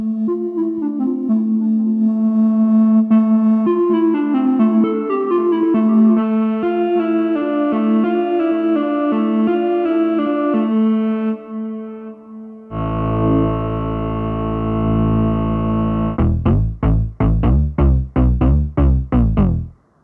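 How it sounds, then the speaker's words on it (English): A synthesizer played through a chain of distortion, cabinet simulation, auto-wah, chorus, phaser or flanger, reverb, delay and EQ: a sustained buzzy melodic line, then a thick droning tone, ending in a run of sharp, rhythmic gated stabs. No voices. "So the chain goes distortion, distortion, then cabinet simulation, auto-wah, then a chorus"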